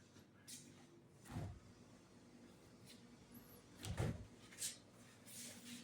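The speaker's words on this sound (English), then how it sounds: "and the newly installed" A newly installed sliding door in a renovated rental home slides open or shut, making two soft thuds and rumbles at low volume against room noise, with faint lighter clicks in between.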